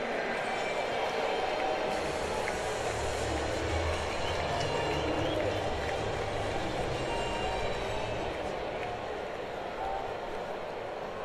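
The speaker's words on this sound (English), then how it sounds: "Phenomenal crowd here today" A large crowd fills a baseball stadium during a Los Angeles Dodgers vs Washington Nationals game, producing a steady, dense roar that holds evenly throughout without breaks.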